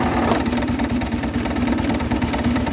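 John Deere 200 series garden tractor engine running steadily at full throttle in first gear, a continuous close mid-to-low engine drone with a regular pulsing thrum and no talking.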